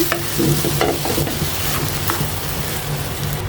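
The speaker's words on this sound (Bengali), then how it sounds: "এখানে আমি আর একটু দুধ দিয়ে দিচ্ছি আমার মনে হলো আর একটু দুধ লাগবে আমি ভালোভাবে মিশাই নিচ্ছি" A spoon stirs a semolina barfi mixture loosened with extra milk in a pan, scraping in steady, close strokes over a low bubbling sizzle, with no talking.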